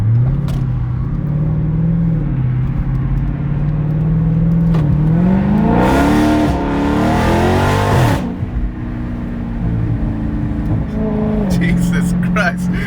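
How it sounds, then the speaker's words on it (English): A car's exhaust with the mid-muffler deleted drones loudly while driving, then rises in a sharp rev and drops back to a steady rumble; a voice is heard over it. "we just got our mid-muffler delete. I'm sure you guys already heard it. Sounds freaking loud."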